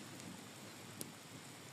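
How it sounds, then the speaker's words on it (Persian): Rain falling on plastic sheeting makes a steady, fairly quiet hiss of dense patter with one slightly sharper drop standing out; no voices are heard. "بارون میریزه روی پلاستیکا، چه صدایی عجب."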